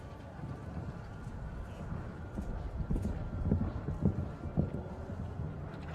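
Horse hooves clip-clop on the arena footing during show jumping at the Longines Grand Prix in the UAE, a steady thudding rhythm with a few sharper hits, heard at moderate distance over wind and crowd ambience.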